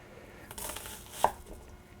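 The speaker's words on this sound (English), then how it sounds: "I'm going to cut through it once and then just cut thin-ish" A knife slices thin rings from an onion on a cutting board before caramelizing; soft cutting sounds come close, with one sharper tap of the blade against the board.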